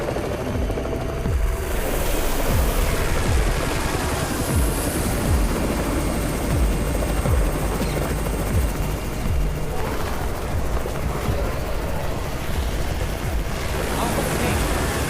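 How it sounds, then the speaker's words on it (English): A helicopter arrives in a zombie video game, its rotor chop thumping rhythmically under a broad rushing roar alongside game effects. "It's the Raven's chopper! We have backup!"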